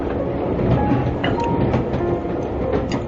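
A passenger train rolls steadily along its rails, a continuous rumbling roar with faint clacking and occasional metallic squeaks, heard from inside the carriage with no talk.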